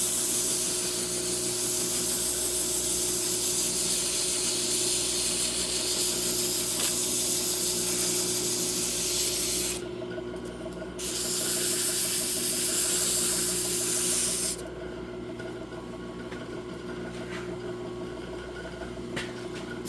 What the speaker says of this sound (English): Hit her with a little bit of brake clean, maybe.